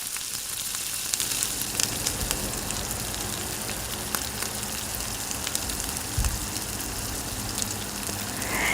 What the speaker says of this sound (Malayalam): ഇത് ചേർത്ത് നന്നായിട്ട് തക്കാളി കുക്കായി വരുന്നത് വരെ ഒന്ന് വഴറ്റി കൊടുക്കാം